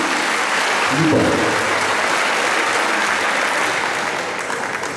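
Loud, sustained audience applause at an opening ceremony honouring an actress, a dense crowd of clapping hands that fills the hall and slowly eases off.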